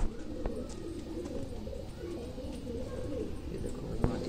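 Pigeons of a Guldaar breed cooing at a pigeon show, soft repeated low throaty coos close by, with someone talking over them and a few sharp knocks.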